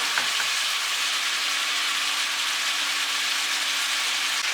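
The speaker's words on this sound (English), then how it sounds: "Sizzling is really loud, I probably can hear it." A tomatillo dish frying in a pan gives a steady, loud, broadband sizzle that holds evenly throughout with no talk over it.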